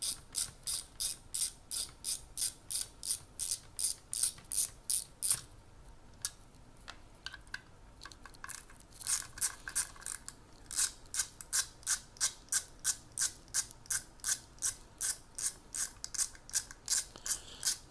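Screws being undone from a Bosch ME17.9.74 ECU housing: steady, rapid clicking of a ratcheting tool in even bursts, pausing briefly midway before resuming, close and fairly quiet.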